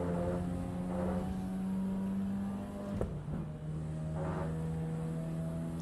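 A car with a five-speed gearbox drones in the racing game Assetto Corsa EVO, its engine holding a steady buzzing note, then a sharp gear-change break midway before it pulls on, heard alone and fairly quiet.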